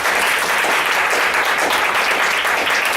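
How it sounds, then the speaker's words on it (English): An indoor audience gives club members a round of applause, a loud, steady burst of clapping that runs without a break for the whole stretch. "Give yourselves another round of applause."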